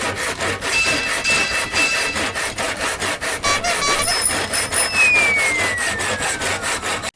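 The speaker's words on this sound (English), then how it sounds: "I'm going to cut that piece of wood in half" A hand saw cuts through wood in steady, rapid back-and-forth strokes, close and loud, with a faint squeak as the blade works through.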